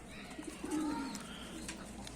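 Mardin tumbler pigeons coo in their cage, a low, soft cooing running steadily through the short stretch with faint background noise.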